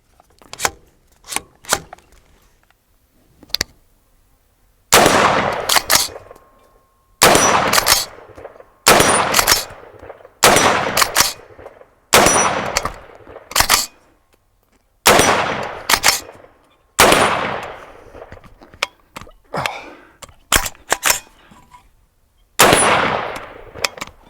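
Loud, close rifle shots from an Oceania Precision SP-15 .223 rifle, a string of sharp blasts with ringing decay, separated by pauses and metallic clatter as the action cycles and sticks.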